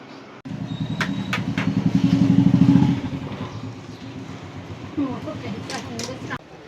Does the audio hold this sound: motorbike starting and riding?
yes